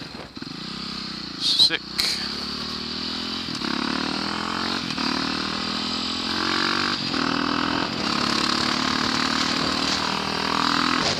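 KTM 530 supermoto motorcycle engine being ridden onto a freeway while pulling a wheelie, a loud rising rev that climbs steadily through the gears, close to the rider, with a brief spoken exclamation near the start.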